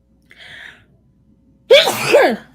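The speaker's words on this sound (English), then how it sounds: "sorry, had to sneeze" A single loud, abrupt sneeze close to the microphone, preceded by a brief quiet inhaling sound.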